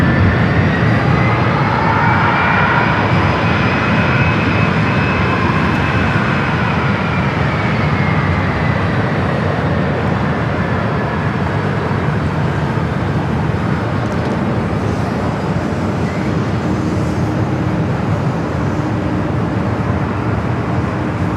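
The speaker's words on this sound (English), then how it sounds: "Flight to Boston, now rolling down to 24 left." A Boston-bound Boeing 777-300ER jet airliner rolls down runway 24 left at LAX, its engines roaring steadily and loudly throughout, with a slowly shifting whine riding over the broad rumble.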